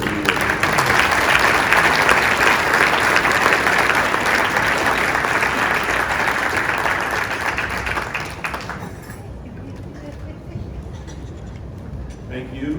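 Loud, sustained applause from an audience congratulating an honored group at the Senior Executives Association 2019 Presidential Rank Awards ceremony. The dense clapping runs for about nine seconds, then drops away to a quieter room.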